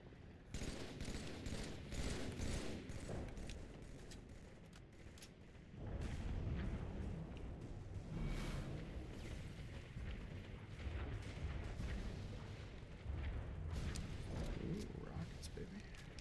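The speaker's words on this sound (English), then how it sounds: "Ooh, rockets, baby." Rocket blasts and gunfire in a Halo multiplayer match, a dense run of booming explosions and shots that rises and falls, with people talking over the battle.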